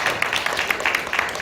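A church congregation claps during an Easter Sunday service, a dense, steady patter of many hands at moderate loudness, brief and without talk over it.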